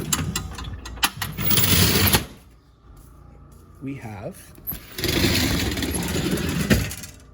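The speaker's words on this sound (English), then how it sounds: "This is called the K12 saw" A small gas engine on a K12 rescue saw at a fire station revs up loudly, drops out, then roars again, with someone talking in between.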